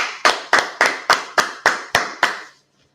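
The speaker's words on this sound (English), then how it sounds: "Clap it up." An audience at a meeting of Israelite believers claps in unison, eight sharp, evenly spaced loud claps with brief decay between each, then silence.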